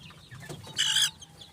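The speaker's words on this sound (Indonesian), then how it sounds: "ini adalah contoh anak ayam yang sudah perlahan-lahan sembuh" A chick recovering from a cold and snot gives a short, raspy cluck, a single brief call close by over low background murmur.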